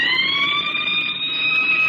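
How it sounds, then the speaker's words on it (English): A police car siren wails loud and close in a steady rising tone through the whole short stretch, with no voices over it. "Cut the siren."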